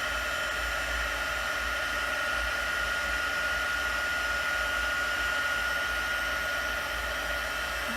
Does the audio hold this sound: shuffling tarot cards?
no